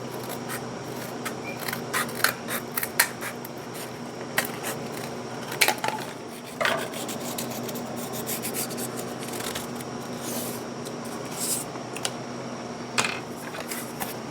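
Leather being cut for the back piece of a three-piece axe sheath, a steady scraping, rasping drag with scattered small clicks and snips over a faint constant hum, close by and without speech.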